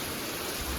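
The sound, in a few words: rain falling with wind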